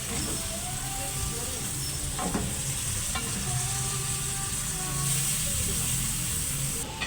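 Takway seasoned with salt, MSG and soy sauce is stirred and cooked in a pan, giving a constant moderate sizzle with a few soft utensil knocks, close and steady.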